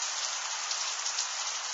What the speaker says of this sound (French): La grêle continue à sauter par la toiture. Gros grêlon. Mêlé de fortes pluies là.